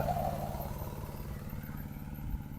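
A farm tractor engine running nearby with a steady low mechanical chug and clatter, holding a rough, continuous throb throughout the short stretch.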